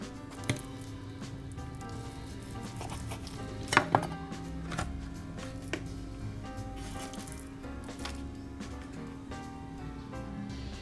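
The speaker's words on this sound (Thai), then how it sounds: "มือสไลด์หั่นขนาดพอดีคำ" A knife slices mushrooms into bite-size pieces on a cutting board, giving soft, irregular chopping taps with a couple of sharper knocks over a steady kitchen hum.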